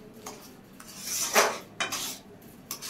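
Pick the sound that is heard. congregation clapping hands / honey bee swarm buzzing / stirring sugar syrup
stirring sugar syrup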